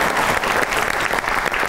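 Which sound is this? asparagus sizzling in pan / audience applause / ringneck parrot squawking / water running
audience applause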